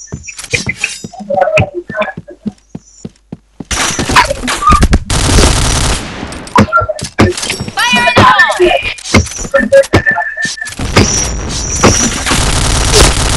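A shooter video game fires bursts of gunfire, rapid automatic volleys and single shots alternating with quieter gaps, loud and close, while a player talks over the action.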